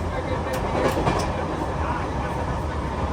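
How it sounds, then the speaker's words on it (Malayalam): The Patna Express rolls at speed, heard from inside the carriage as a steady, loud rumble with faint rhythmic clatter from the wheels and rails, and no pauses. "ട്രെയിൻ അത്യാവശ്യത്തിന് നല്ല സ്പീഡൊക്കെ ഉണ്ട് കേട്ടോ"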